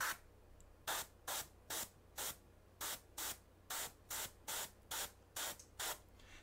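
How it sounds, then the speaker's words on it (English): An airbrush lays a wide spray of dark purple glaze onto a model's cloak, heard as about fifteen short, evenly paced hissing bursts with brief pauses between them, close and clear over a quiet background hum. "So what I'm doing is I'm having a really, really wide spray."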